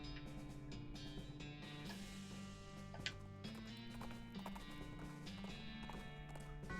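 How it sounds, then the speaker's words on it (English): Horse hooves clip-clopping in the video game West of Loathing, a soft steady trot of hoofbeats over looping background game music, quiet and without talk. "Horse, horse, horse."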